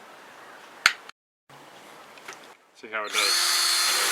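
A DeWalt DC759 cordless drill spinning at about 1500 RPM with a paint-stripping attachment on a Datsun, a brief motor whine that rises sharply and holds steady, close and loud near the end after a few seconds of someone talking.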